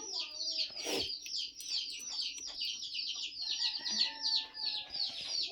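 Chickens cluck and chicks peep nearby in a steady, busy stream, with a brief louder squawk near the start and no one speaking.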